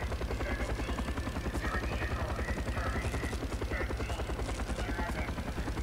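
Helicopter in the video game Call of Duty: Black Ops, a loud, continuous rotor thump with rapid regular blade chop dominating throughout, with faint game effects layered over it.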